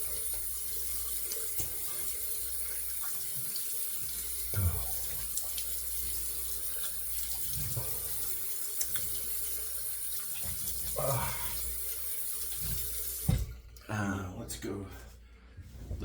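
Tap water runs steadily into a sink while a razor is rinsed after a shave with a Razorock DOC open-comb safety razor, a continuous wash with a few brief clatters, then splashing and handling noises near the end.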